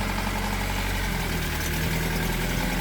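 A diesel vehicle engine idling just after starting, a steady close low rumble with constant vibration and no speech.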